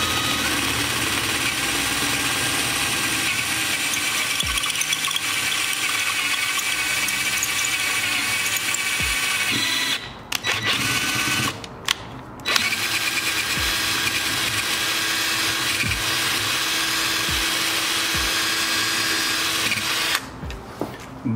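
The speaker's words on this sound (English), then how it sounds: "let's go ahead and drill this bitch out" A loud, steady power drill whines continuously, enlarging a bolt hole in a crankshaft with cutting oil, briefly stopping twice midway and once near the end before starting up again.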